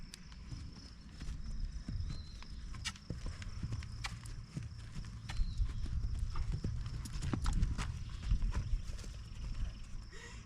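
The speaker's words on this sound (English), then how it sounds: "And nice canter depart, very deliberate, very quiet." Horse cantering on a soft surface, its hooves giving a quick, steady clip-clop rhythm that goes on throughout at moderate distance, with faint ambient noise around it.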